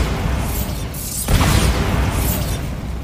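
A Bombarda spell explosion from Hogwarts Legacy, heard as a loud, sudden boom with a bright crackling burst partway through, over a steady, dense background of magical and game effects.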